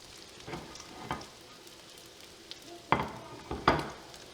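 Cajun salmon burgers sizzle and fry quietly in a skillet, with a few sharp crackles and pops rising over the steady hiss.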